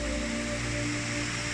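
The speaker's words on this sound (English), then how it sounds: "We've got another creek coming out of the mountain here." Continuous rushing water from a mountain creek flowing out of the hillside on a Banff hiking trail, a steady close-up roar with no breaks.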